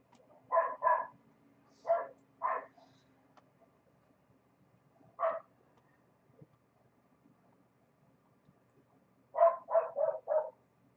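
A dog barks indoors in short bursts: a pair, then two singles, a lone bark after a pause, and a fast run of four near the end, fairly close with quiet gaps between.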